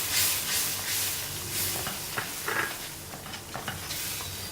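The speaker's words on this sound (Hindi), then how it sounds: "अब इसको अच्छी तरह मिक्स करेंगे।" Tomato and yogurt masala being stirred in a frying pan for fish curry, a soft continuous sizzle with scraping strokes of the spoon, close and steady with no talking.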